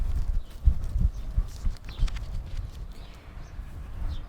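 Horse hooves clip-clop at a steady walking rhythm, close and fairly loud, with no voices over them, set in a Texas cattle-pasture story.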